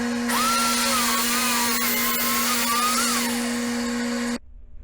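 A Masterforce track saw set to full depth cuts through a sheet of plastic-faced melamine, its steady loud whine rising and wavering slightly as the blade passes through, then cutting off sharply near the end.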